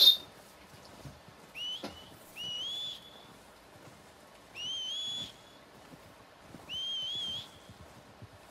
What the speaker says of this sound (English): I love whistling for my horse.